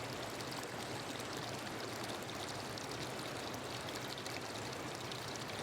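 Small tributary streams flowing into the Citarum river in West Java, a steady, close rush of running water that continues unbroken throughout.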